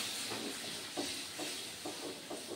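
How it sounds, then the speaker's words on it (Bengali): Water splashes into frying masala for Bengali chhana kofta curry, setting off a steady hot sizzle and hiss with small bubbling surges at regular intervals, close and continuous. "একটু জল দিয়ে দিলাম"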